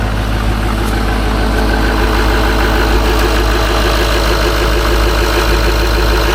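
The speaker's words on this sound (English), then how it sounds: "I'll deal with everything else, but that engine's running good" Wrecked Duramax diesel pickup truck engine idling steadily and loudly up close, a continuous deep rumble with a rough, throbbing low end and no voices.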